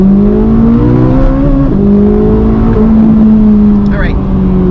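A car engine drones steadily as it accelerates toward 80, its pitch edging upward over a continuous, close, loud hum with no break.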